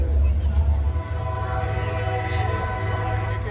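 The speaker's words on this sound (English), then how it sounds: "And a train's coming by." A train rumbles past close by at an outdoor car cruise-in, a deep steady roar with a sustained tonal hum riding on top.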